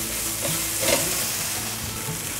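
Steady sizzling of a stir-fry in a hot pan just after about 100 cc of filtered water goes in, seasoned with Himalayan black salt, with continuous stirring scrapes close up and no voices.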